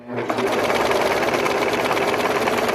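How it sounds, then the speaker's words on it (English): Brother 35 serger sewing machine running on fabric, a fast, even mechanical whirr with a rapid stitching rhythm, close and steady, faint talk underneath. "what I do is I just let the machine keep running like this"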